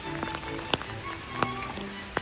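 Steady rain falling outdoors in Amsterdam, a soft continuous patter with a few sharper drip or tap sounds standing out, moderately faint.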